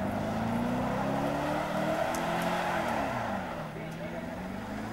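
A late-model car doing a tyre burnout in the pit lane at the Easternats event in Melbourne, its engine holding a steady, loud roar with wavering revs throughout, while a voice speaks over it.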